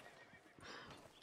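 A horse whinnies amid hoofbeats and a busy Red Dead Redemption 2 game soundscape, fairly quiet and continuous.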